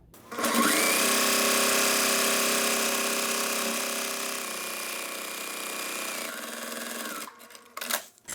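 A sewing machine runs in one long continuous whir while basting the lining of a bag's cargo pocket gusset to the gusset, steady and close, slowing and stopping near the end.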